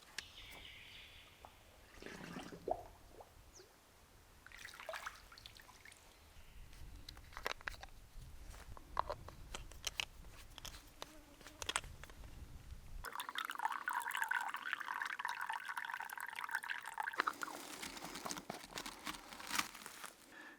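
Water squeezed from a soft bladder through a filter into a bottle while camping in the Australian outback, a faint, uneven patter and trickle that turns into a steadier filling pour partway through, heard up close.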